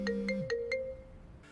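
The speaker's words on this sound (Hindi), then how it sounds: "ठीक 12 बजे घंटी बज गई" A phone ringing at midnight: a quick series of four bright electronic ringtone chirps with a warbling melodic line underneath, fairly soft and clean, then a fade into quiet.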